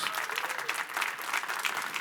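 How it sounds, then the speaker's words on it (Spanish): A church congregation applauds for Jesus, a steady wash of many hands clapping at moderate distance, fairly soft and even for two seconds. "¿por qué no le das un aplauso a Jesús?"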